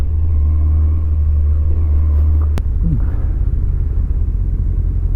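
The engine of a Kawasaki ZZR 1100 motorcycle with hydrostatic lock damage idles with a deep, uneven, stuttering rumble, then shifts in tone after a sharp click, running continuously close by.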